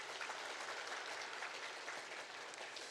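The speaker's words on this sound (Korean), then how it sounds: "우리 박수로 환영하겠습니다." A church congregation applauds in welcome at a Sunday service, a dense, even wash of clapping from many hands that holds steady for the whole stretch.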